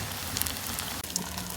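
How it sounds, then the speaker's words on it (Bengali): Dough balls fry slowly in oil over a low flame, making a soft, even crackling sizzle with scattered tiny pops, close but fairly quiet, with no voices. "তো এগুলো আস্তে আস্তে ভাজা হোক।"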